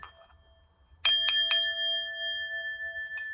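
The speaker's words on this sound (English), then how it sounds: "Let's just bell it up." Three quick metallic strikes on a loud gong ring out in succession, then a clear tone sustains and slowly fades, with a faint extra tap near the end.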